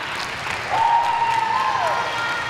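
A crowd at a provincial martial arts tournament applauds a just-finished kata, with a sustained burst of clapping and a brief whistle-like tone rising above it in the middle.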